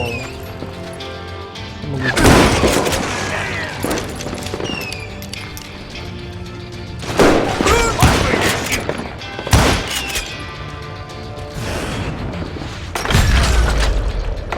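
Gunfire in the Western shooter Call of Juarez Gunslinger: several loud sharp shots and crashing bursts at irregular intervals, some in quick clusters, over a busy game soundtrack.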